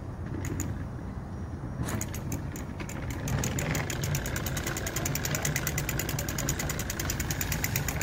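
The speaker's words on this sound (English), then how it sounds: "if I turn it on, the problem is it doesn't have enough power to get the bike going" A small booster motor on a bicycle runs steadily during pedaling, giving a continuous buzzing drone with a fast rhythmic ticking that picks up after a couple of seconds and persists.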